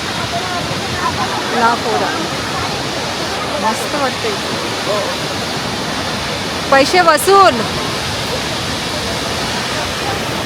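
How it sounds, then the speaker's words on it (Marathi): A large waterfall in Arunachal Pradesh near Tawang gives a steady broadband rush of falling water, loud and constant throughout, with people talking over it and a brief louder burst of voices near the end. "आपल्या इंडियातला एक नंबरचा हा धबधबा आहे"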